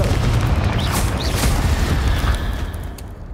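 Confringo explosive spell blasts in the Hogwarts Legacy video game, a loud booming burst followed by crackling, rumbling aftershocks that fade over a few seconds.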